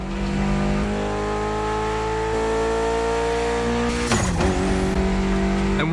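A Mitsubishi Evo's engine revs hard and steadily, close and loud, with a sharp throttle blip and drop near the end, no voices over it.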